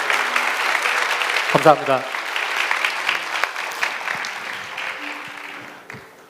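A congregation at a Korean youth church service claps loudly in a sustained burst, with a voice speaking briefly over the applause as it gradually thins out.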